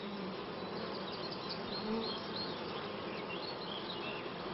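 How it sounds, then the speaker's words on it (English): Honeybee colony buzzing steadily throughout, a dense continuous drone of many bees close by with no voices. "A young bee emerges from its cell."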